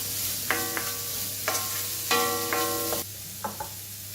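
Chopped carrots and beans stir-fry in a pan with a steady sizzle, while a spoon or spatula scrapes and taps against the pan several times, close and clear.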